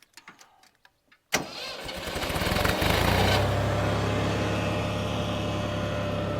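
A small tractor engine just fitted with a repaired carburetor cranks and catches with a sudden burst, then settles into a loud, steady running rumble that continues alone to the end after a few faint knocks beforehand.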